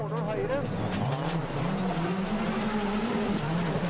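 Rally cars race on a sandy gravel stadium super special stage at Rally Argentina 2007, a steady engine drone with shifting pitch under continuous commentary.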